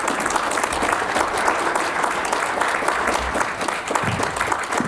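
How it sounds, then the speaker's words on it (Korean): Audience applause at a book launch event marking 80 years of separated families, a dense, continuous clapping from a seated crowd, loud and sustained throughout with no talk over it. "2025년 동안 수고 많이 했다고 격려의 박수 한번"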